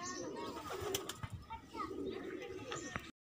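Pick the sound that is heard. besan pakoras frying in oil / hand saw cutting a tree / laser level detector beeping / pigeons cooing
pigeons cooing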